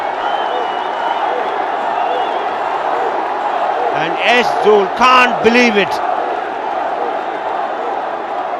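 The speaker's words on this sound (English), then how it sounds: "The crowd is obviously roaring." Cricket stadium crowd at a Ranji Trophy match, a steady roar of distant spectators with a commentator talking over it and a brief burst of louder noise midway.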